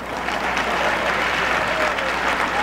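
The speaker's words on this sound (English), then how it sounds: "feel free to applaud the moderator anytime you'd like" A debate audience at a 1992 Democratic primary event claps for the moderator, a dense, even wash of applause that holds at a steady level throughout.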